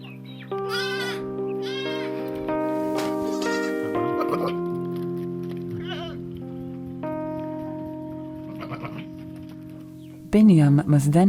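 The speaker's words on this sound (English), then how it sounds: "When the adult goats reach home, their young, who are not taken out to pasture, run to greet them as they are hungry" Goats bleating as young kids run to greet adult goats returning home from pasture, with several overlapping wavering calls and a loud close bleat near the end over a steady musical background.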